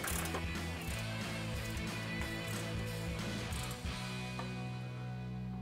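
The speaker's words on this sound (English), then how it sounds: "A ratchet wrench will make your life so much easier." A ratchet wrench tightens a bolt on a Barricade front bumper being fitted to a 2018-2020 Ford F-150: a steady run of close mechanical clicks, then a brief pause before a few more turns.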